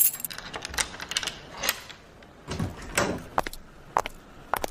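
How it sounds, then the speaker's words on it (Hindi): A door is opened with clunks, rattles and metallic clicks in an uneven sequence, close and fairly loud, with brief handling noises between the hits. "1 मिनट, मैं दरवाजा खोल रही हूँ"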